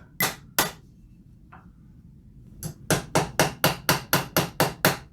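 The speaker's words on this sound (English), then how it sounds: "we can take a little hammer" A small hammer taps to mark recoil pad hole positions on a Mossberg 500 shotgun: two sharp strikes, a pause with a faint knock, then a quick steady run of about nine close, loud taps.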